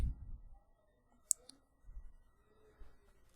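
A computer mouse gives a single sharp click while someone works in PowerPoint. The click stands out against near silence, with a few soft low thumps around it.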